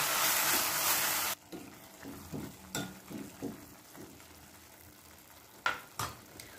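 Spiced tomato masala chutney sizzles loudly in a pan at first, then drops to a quieter fry while a spoon scrapes and stirs in a run of soft, uneven strokes.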